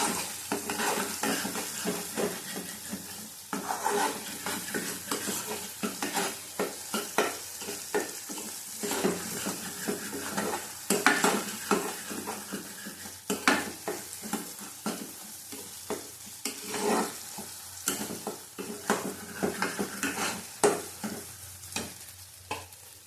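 Spice paste for a tengra fish curry is fried in oil and stirred hard, a constant sizzle broken by rapid scraping and knocking of a spoon against the pan, close and busy throughout with no talking.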